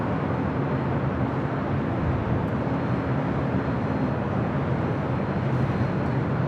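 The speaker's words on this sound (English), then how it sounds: "EVA Air Flight 12 coming in from Taipei," Broadband jet roar of an EVA Air Boeing 777-300ER arriving at LAX from Taipei, a steady loud rumble with no speech throughout.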